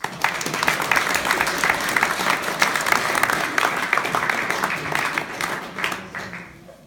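Applause from a lecture audience, steady massed clapping at moderate level that holds for several seconds and then tapers off near the end.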